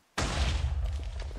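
A TNT block explodes in a video game with a sudden loud boom after brief silence, followed by a rumbling, crackling tail that lingers and slowly fades.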